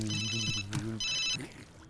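A phone ringtone rings in two electronic bursts inside a home during a comedy family scene, with a steady low hum under the first burst and brief sounds between them.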